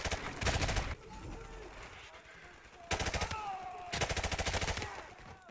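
Automatic gunfire in Call of Duty Modern Warfare Remastered, loud rapid bursts in three separate volleys with quieter game noise between them.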